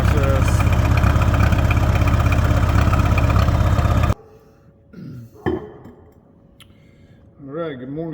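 A Massey Ferguson 85 tractor engine idles loudly and steadily up close while warming up, then cuts out abruptly partway through, leaving quieter background sounds and a person speaking.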